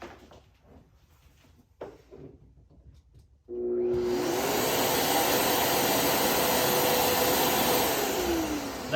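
A Festool CT26 dust extractor with added Bluetooth starts up after a few seconds of quiet handling noise, then roars steadily at full speed, loud and close, with a rising whine as the motor spins up.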